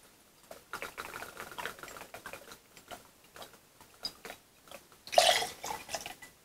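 El Dorado 15-year-old rum poured for a Mai Tai, a full two ounces, makes a soft, uneven trickle of light ticks and drips, swelling into a brief louder splash near the end, with no talking.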